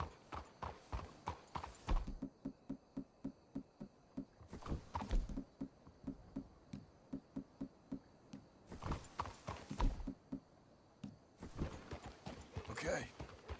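Horse hooves clip-clopping in Red Dead Redemption 2, a steady rhythmic stream of close, crisp hoofbeats at a walking pace, with voices speaking in between.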